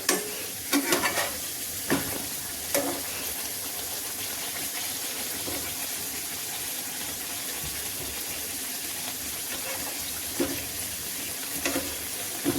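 Urad dal bedmi puris fry and get turned in a little oil in a kadhai, making a steady, loud sizzle with occasional scraping and stirring clatters throughout.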